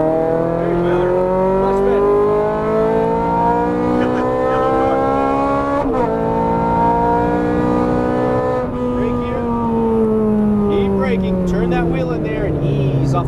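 A Ferrari 430 Scuderia on a race track revs loudly under hard acceleration, its engine note climbing repeatedly through the gears with sharp shift breaks, close and dominant throughout.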